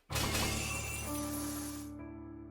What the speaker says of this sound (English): The chains are broken.